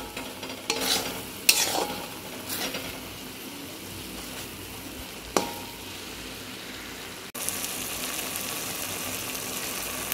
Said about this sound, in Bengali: আমাকে একটু ভালো করে এই মশলাটা প্রথমে কষিয়ে নিতে হবে।